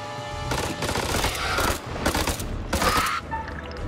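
Automatic gunfire in the video game House of Ashes on PS4 comes in three dense, loud bursts of rapid shots with a mechanical rattle, each lasting about a second, separated by short lulls.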